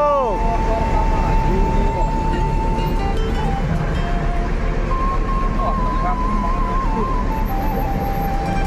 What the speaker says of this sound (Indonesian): Awas, mobil masuk.